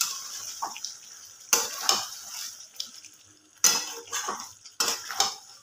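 Chicken fries in a pan while being stirred on lowered heat, with loud, abrupt bursts of scraping and clattering separated by quieter stretches of soft frying.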